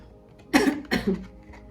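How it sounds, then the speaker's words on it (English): Two rough, close coughs in quick succession, the second followed by a short throaty rasp, then quiet. "No, I've been coughing all day."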